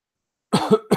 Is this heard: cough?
yes